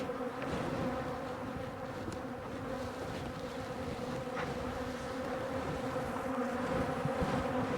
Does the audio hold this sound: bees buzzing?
yes